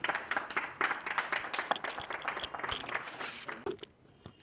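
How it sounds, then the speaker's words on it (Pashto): An audience at a Pashto poetry gathering applauds, a dense burst of many hands clapping in a room that thins out and fades to a few scattered claps at the end. "تاسو چکچکې ورته وکئ"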